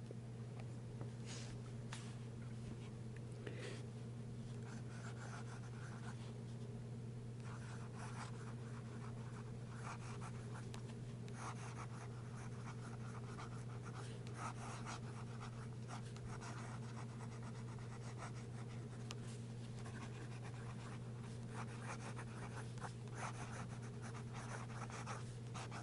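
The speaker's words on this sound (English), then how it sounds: "great ink flow, nice smooth nib, lays down the ink" A custom-made fountain pen nib glides over paper in faint, soft scratching strokes, barely above a constant low hum in a quiet room.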